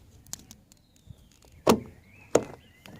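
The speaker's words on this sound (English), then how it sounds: "push door handle in" A Ford Mondeo Mk3 car door handle is pushed in, giving two sharp mechanical clicks about half a second apart against a quiet, faintly rustling background.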